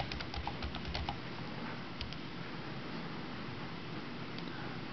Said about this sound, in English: And we're just going to type that in.